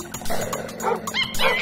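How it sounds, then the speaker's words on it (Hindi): Dogs bark loudly at a monkey in a children's rhyme, a quick run of close, sharp yips and barks filling the short stretch, several overlapping in rapid rhythm. "बंदर जी के तेवर देख के जोर से कुत्ते भौंके।"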